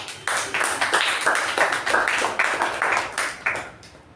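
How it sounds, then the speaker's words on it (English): A small meeting audience applauds their club president, a steady patter of close, distinct hand claps lasting a few seconds with no talking over it. "let's give a huge round of applause for our president"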